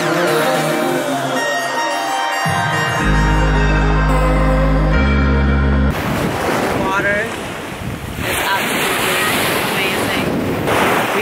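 Sea surf rolls in at a Turkish beach resort, a steady broad wash buffeted by heavy wind noise, after several seconds of music at the start.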